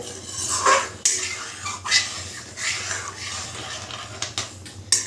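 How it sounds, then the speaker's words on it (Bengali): A utensil stirs and scrapes a metal pan of milk heating for patisapta pitha, with uneven clinks and rubbing strokes close up, several sharper taps among softer swirls. "এইভাবে একটু ভালো করে নাড়িয়ে নিতে হবে"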